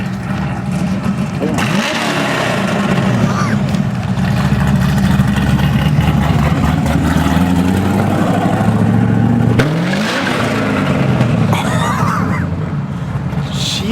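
A BMW car drives past loudly at close range, its engine roar swelling and falling away twice amid continuous outdoor engine and traffic noise, with some talk mixed in.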